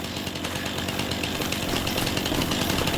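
A Stihl chainsaw cutting a tree in a farming video game set at Riverbend Springs, a loud, steady buzzing engine roar running continuously throughout.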